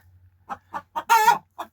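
A few chickens cluck in short, separate bursts nearby in a coop, one longer squawking call in the middle, otherwise quiet.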